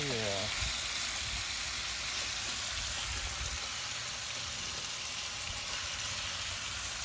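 A whole package of bacon sizzles on a Ninja Woodfire XL Pro grill: a constant, close, crackling hiss that holds steady throughout.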